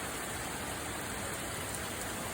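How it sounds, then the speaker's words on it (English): Steady torrential rain from Hurricane Milton pours down in a dense, unbroken hiss, fairly close and consistent throughout, with little wind and no voices. "Starting to get the torrential rains."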